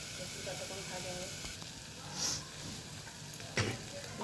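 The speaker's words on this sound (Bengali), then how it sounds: "শুধু কুঁদরিটা ভাজবো" Ivy gourd (kundru) fries in oil in a pan over low heat, giving a faint, steady sizzle with soft crackling throughout and a brief clatter near the end.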